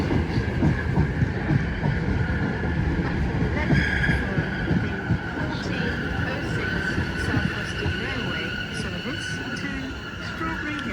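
A Class 377 electric train, unit 377-472, pulls into Clapham Junction bound for Strawberry Hill or Teddington, a steady loud rumble of wheels and motors with rail squeal over it, continuing throughout with a voice talking.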